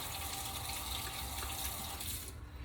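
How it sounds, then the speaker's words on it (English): Tap water running over a lime as it is rinsed at a sink, a steady close rush of flowing water that eases off near the end. "let me just go ahead and rinse this lime off."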